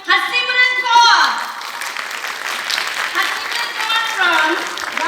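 Audience applause at a school music festival, a loud rush of clapping that swells in the first second, then holds steady. Music is fading out at the start.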